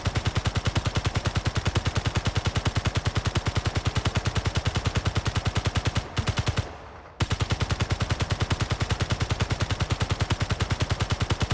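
Rapid automatic gunfire from the Space Engineers video game, a loud, evenly spaced stream of shots that cuts out for about a second and then resumes at the same rapid rate.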